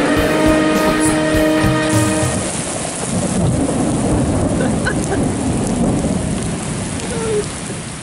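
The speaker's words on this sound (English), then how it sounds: "there is a thunderstorm that we are out in?" Steady heavy rain pours throughout while thunder rumbles low and continuous, loud and close, with no voices.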